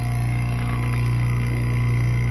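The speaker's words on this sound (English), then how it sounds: "so this vacuum pump's been on for a while." Vacuum pump running on a wine cooler refrigeration system, a steady loud motor hum with a continuous drone and no pauses, heard up close without speech.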